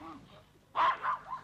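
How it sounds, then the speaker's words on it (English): A dog barks a few times in quick succession at medium distance, sharp yelps standing out after a quieter stretch of faint background voices. "Who has a dog in this street?"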